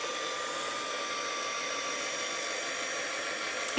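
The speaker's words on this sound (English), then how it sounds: "I'm just going to get my heat tool, so it is going to be a bit noisy" Heat tool blowing steadily for mixed media painting, a constant loud broadband whoosh like a hair dryer that runs unbroken and close throughout, with no talking.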